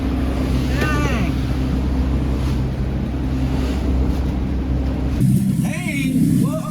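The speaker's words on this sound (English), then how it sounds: "The waves were slamming me." A motorboat pounds through rough, wave-slammed water on a Great Loop crossing of Florida, with a steady loud engine drone and wind roar throughout, a sudden jolt near the end, and brief vocal sounds over the noise.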